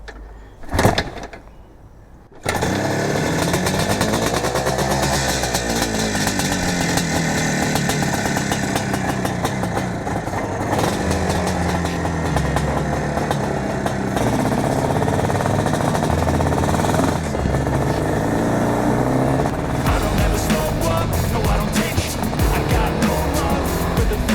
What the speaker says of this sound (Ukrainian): Холодний пуск, зараз буде гаряче.